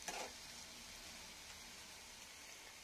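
Fresh mint leaves frying briefly in a pan, a soft steady sizzle with a faint stir at the start, quiet and close with no voices.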